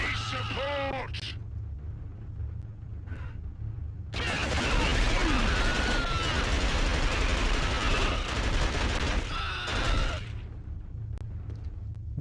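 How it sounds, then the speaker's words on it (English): Heavy gunfire in a first-person shooter video game, a loud sustained barrage of shots and rumble for several seconds, with voices calling out before and after the main burst. "Taking heavy fire!"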